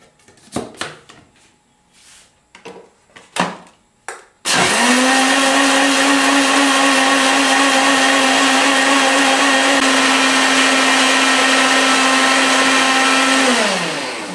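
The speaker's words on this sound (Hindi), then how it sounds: "अब इसमें हम मिल्क डालेंगे, शुगर डालेंगे और इसको लिक्विडाइज करेंगे।" A blender roars on steadily for about nine seconds, liquidizing a mango, banana and celery shake with milk and sugar, after a few short clinks and knocks of ingredients going in, then winds down.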